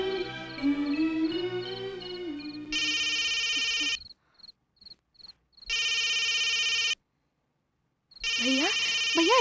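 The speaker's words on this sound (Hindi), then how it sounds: "भैया, भैया अंजलि का फोन है।" A synthetic phone ringtone plays in loud bursts with short gaps and silent pauses between them, close and clear, with no voices.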